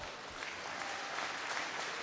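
A crowd applauds gold medalist Hannah Miley at a British swimming championship, a steady wash of clapping that swells slightly and fills the pool hall at a moderate distance.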